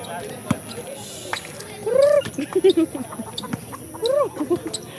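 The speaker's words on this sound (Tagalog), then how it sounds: "May manok." A chicken clucks and squawks in short repeated bursts during a basketball game, mixed with sharp thumping ball bounces and background noise.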